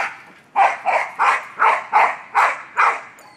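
A dog barks eight times in a quick, steady series, close and fairly loud, with no other sounds around it.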